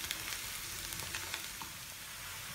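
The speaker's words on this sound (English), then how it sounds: "now after frying chili powder, onion, garlic and whole red chilies" Quiet, steady sizzling and crackling of chili powder, onion, garlic and whole red chilies frying in oil, with faint pops scattered over a soft hiss.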